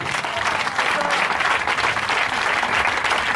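Church congregation applauding and cheering for the Lord Jesus during a Sunday service, a steady dense wash of clapping hands with crowd voices mixed in, sustained and even throughout.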